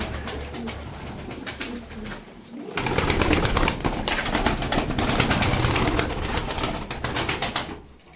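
Pigeons coo steadily in a loft, including a blue male bird, with a dense, continuous chorus of nearby calls and occasional wing flutters.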